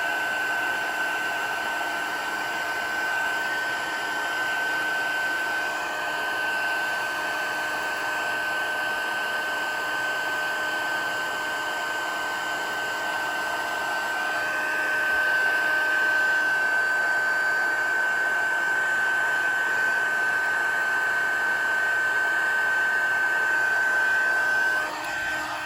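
A heat tool blows hot air over embossing powder on a Christmas card, a steady high whirring hiss like a hair dryer that runs without pause and grows slightly louder near the end.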